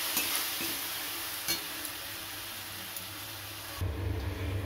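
Tomato, onion and green chili fry in a little oil for a dahi baingan dish, giving a steady close hiss of sizzling with a few faint utensil clicks and a brief shift near the end.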